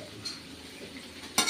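Pork afritada stew being stirred in a pan, a soft scraping and sizzling texture close by, ending in a brief louder clatter of the utensil against the pan.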